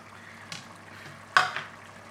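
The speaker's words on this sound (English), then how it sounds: "Give that a good stir" Chicken curry being stirred in a pan for a North Karnataka-style garlic spicy curry, with two brief scraping stirs at close range over a low background sizzle.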